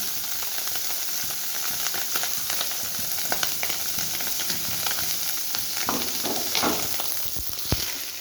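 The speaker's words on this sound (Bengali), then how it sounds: "আমি মাছগুলোকে ভালো মতো উল্টে পাল্টে কড়া করে নিয়ে নিয়েছি" Bok fish pieces frying crisp in a wok, a steady close sizzle and hiss with scattered crackles and pops throughout, louder spits near the end, no talking.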